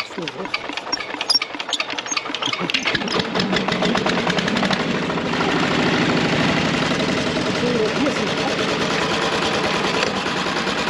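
A battered old walk-behind tiller, set up for cutting sweet potato vines, is hand-cranked to life and settles into a loud, close, rapid chugging idle, with someone speaking over it.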